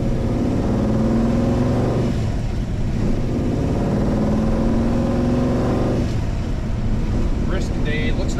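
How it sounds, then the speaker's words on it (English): A 1971 Dodge Charger two-door hardtop on a cold Minnesota test drive, its engine droning steadily from inside the car with a couple of swells as it pulls, under continuous talk. "Test driving the 71 Dodge Charger."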